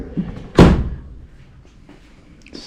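The car door of a 1965 Ford Mustang Fastback shuts with a single loud, close thud, followed by quiet shuffling and a faint click.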